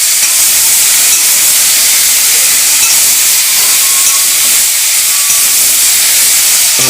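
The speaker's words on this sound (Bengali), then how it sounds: "ভালো করে কষাচ্ছি।" Spices with ground turmeric and cumin sizzle and fry while being sautéed in a pan, a loud, continuous close-up hiss with a dense steamy crackle throughout.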